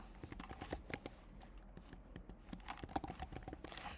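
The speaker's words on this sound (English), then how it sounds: "So I'm going to type that in there." Typing on a computer keyboard, a steady run of light, quick clicks at close range with no voices.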